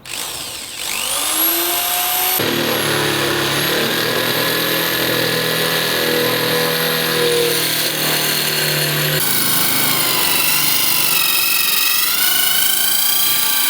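A power drill whines loudly and continuously while boring a pilot hole in a campervan, its pitch rising and shifting as it bores, running steadily for the whole stretch with no talking.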